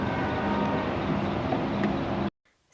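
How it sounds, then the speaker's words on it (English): A Mount Hood Railroad train rolls past nearby as a steady, loud broadband rumble with rail clatter, running continuously before cutting off abruptly near the end. "Since we can hear the train"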